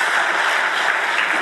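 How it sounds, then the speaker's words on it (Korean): A church congregation applauding after an offering prayer, loud continuous clapping filling the room with an even, dense texture. "다시 한번 큰 박수 부탁합니다."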